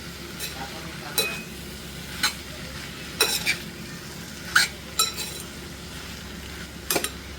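Bitter gourd vegetable fries in a pan, with a soft sizzle under a spatula or spoon scraping and clinking against the metal at irregular intervals, close up and without talk.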